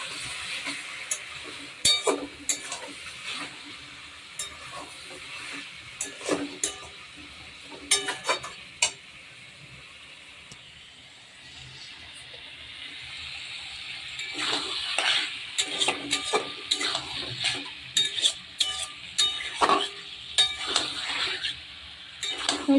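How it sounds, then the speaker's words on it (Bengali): Metal lid lifted and a spoon stirring chicken kosha in a pot, cooked in a village style with potatoes about to go in: repeated clinks and scrapes over a soft sizzle, close by, with no talking. "এবার আমি চাপাটা একটু তুলে নেড়ে দেব।"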